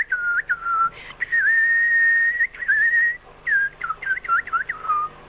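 A performer whistles an imitation of birdsong, with sustained tones and then quick chirping, warbling bursts in short irregular phrases, close and clear against quiet.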